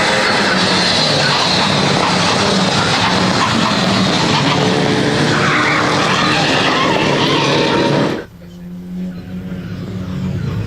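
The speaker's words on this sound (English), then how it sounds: "There's Miha PRIMOŽIČ in that Alpine liveried Renault Clio." Renault Clio Cup race cars, one in Alpine livery, race at BalatonPark circuit in a loud, close blast of revving engines and tyre noise that cuts sharply to a quieter, more distant engine drone.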